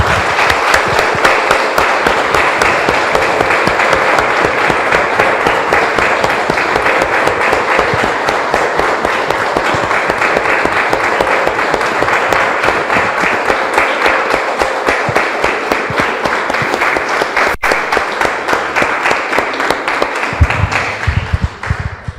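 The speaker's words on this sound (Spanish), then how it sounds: "Damos un aplauso, hermanos, al Señor." A church congregation breaks into sustained, loud applause during a worship service, a dense, steady wash of many hands clapping close by for over twenty seconds, with no talk on top.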